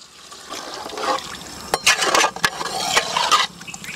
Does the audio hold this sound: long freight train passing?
no